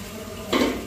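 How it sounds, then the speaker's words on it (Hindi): A metal rice pot for chicken biryani set onto a stove, one short clanking knock halfway through against a quiet kitchen background, no talking. "अभी चावल वाला बर्तन चढ़ रहा है।"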